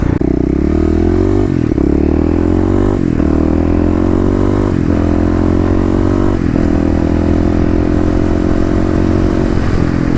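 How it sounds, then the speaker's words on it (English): A Kawasaki KLX351 dirt bike engine drones loudly and close on its first ride, rising through the revs and dipping at each of several gear changes in a steady cycle. "This is technically the first ride on the KLX351."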